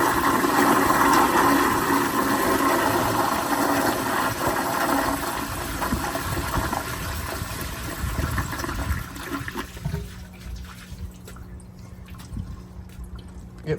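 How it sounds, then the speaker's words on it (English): A 1978 American Standard Glenco 4.5 gpf toilet flushes on full power, a loud rushing gush of water that slowly drains away and settles into a quieter trickle and tank refill hiss near the end. "So here is a flush on full power."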